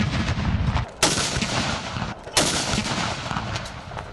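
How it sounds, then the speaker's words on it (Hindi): Ceremonial cannon salute fired for Eid Milad-un-Nabi in Pakistan, two heavy booming blasts roughly a second apart, each followed by a rolling echo across open ground. "सूबाई दारुलहुकूमतों में 21-21 तोपों की सलामी दी गई।"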